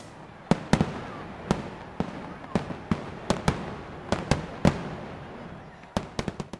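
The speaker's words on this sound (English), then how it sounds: "Wow, the fireworks are great!" Fireworks burst one after another, a dozen or more sharp cracks at irregular intervals, some in quick clusters, each with a short fading echo.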